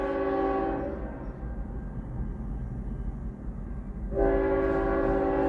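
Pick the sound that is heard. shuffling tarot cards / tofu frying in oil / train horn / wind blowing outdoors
train horn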